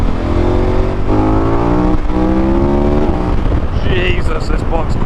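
A motorcycle on a ride through the Yorkshire Dales accelerates hard, its engine note climbing through the gears close and loud under heavy wind noise.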